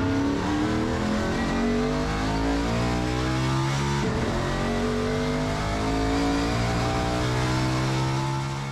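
A Ford Talladega race car accelerates on a track at Spaceport America. The engine's steady roar climbs and holds in pitch for several seconds, loud and close, with no voices over it.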